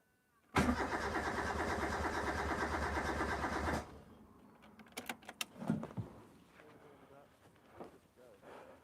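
A built Toyota 4AGE engine cranks steadily for about three seconds during a compression test, a loud, even chugging starter rhythm that cuts off abruptly, followed by clicks, handling noises and a voice speaking.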